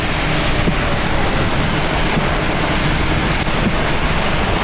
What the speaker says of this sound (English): it sound like it's starting to hail now. Small hail.